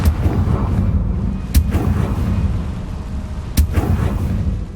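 In the Hogwarts Legacy video game, the Confringo fire-blast spell goes off as two loud, booming explosions a couple of seconds apart, over a dense rumbling background.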